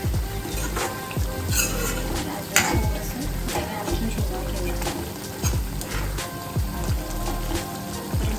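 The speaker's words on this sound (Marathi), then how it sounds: "आपला छान असा मसाला शिजत आला" Pav bhaji masala fries in oil in a pan with a dense, close, rain-like sizzle that never lets up. Occasional scrapes and clinks come through as the spoon stirs the pan.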